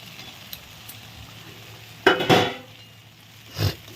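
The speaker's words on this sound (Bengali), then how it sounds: "দিয়ে ভালো করে মশলা একসঙ্গে কষিয়ে নেব" Spice paste of ginger, garlic and onion with ground dried chilli frying in a pan for a spicy tengra fish curry, a quiet sizzle under a few loud stirring scrapes and clinks of a utensil against the pan.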